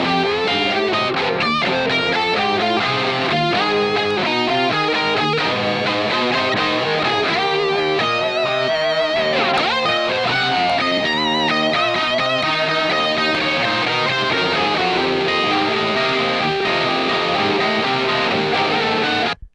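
A heavily distorted electric guitar plays a busy, sustained lead line over full band backing, loud and continuous until it cuts off at the end.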